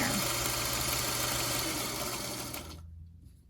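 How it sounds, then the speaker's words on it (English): A sewing machine stitches a quilt block with a steady, dense mechanical whir close by. It runs evenly for nearly three seconds, then stops abruptly, leaving near silence. "I'm just going to keep sewing and let you watch me"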